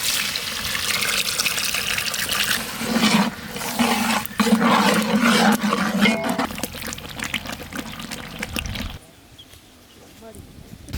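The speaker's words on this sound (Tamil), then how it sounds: "கரைச்சி வச்ச புளி தண்ணியை சேர்த்துக்குவோம்." Tamarind water pours into masala frying in oil for a brinjal gravy. It makes a loud, rushing sizzle that swells for several seconds, then drops abruptly to quiet.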